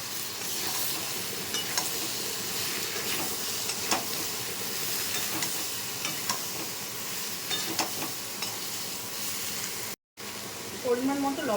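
Sliced pointed gourd and potato fry in a pan, giving a continuous close sizzle with occasional stirring scrapes, broken by a brief cut of silence near the end; no one speaks over the frying.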